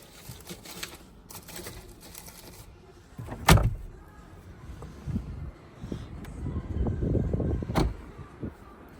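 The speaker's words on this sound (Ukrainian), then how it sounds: "Електрокришечка багажника," Electric tailgate of a 2013 Porsche Cayenne GTS operating, with a soft motor whir, clicks of the latch and a firm thud midway, then a steady humming drive as the lid moves, close and moderately loud.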